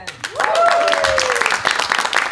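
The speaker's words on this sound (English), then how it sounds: "Make some noise one more time, clapping." Crowd applause and clapping for an Afro dancer at a dance event, a short burst rising quickly, with a voice speaking and a whistle-like tone sweeping over it.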